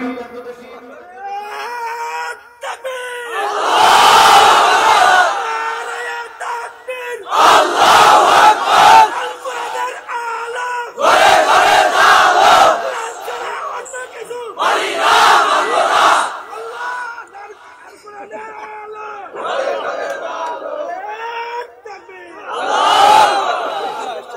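A large crowd at an Islamic religious gathering chanting a slogan in unison, loud, close bursts of many voices answering a lead voice in a repeated call-and-response rhythm, with short pauses between rounds.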